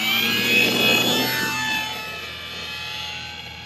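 A steady broadband drone of a distant manned aircraft passing overhead, with a faint high whine, rising slightly then easing off.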